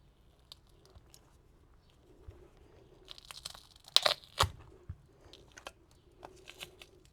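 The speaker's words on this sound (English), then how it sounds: "if I've heated up enough, the reflector should peel right off" Reflector tape being pried and peeled off a heated Harley-Davidson saddlebag latch cover, with close crackling, tearing and crinkling bursts, loudest in a short cluster midway, over a quiet background.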